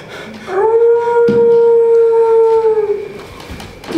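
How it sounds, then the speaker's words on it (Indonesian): A dog gives one long, loud, steady howl lasting about two and a half seconds, rising at the start and trailing off, close and clear with faint background noise. "kau dengar anjing yang melolong itu?"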